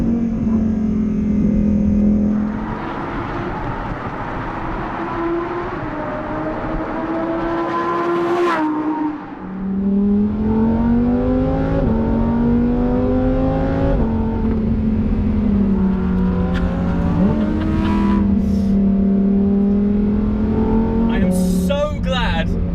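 A Lamborghini Huracán Performante accelerates hard around a track, its engine screaming upward through repeated rising sweeps with sharp drops at each quick upshift, loud and close throughout, with a brief lift and pause partway and a voice talking over it.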